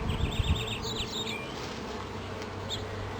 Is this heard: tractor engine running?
no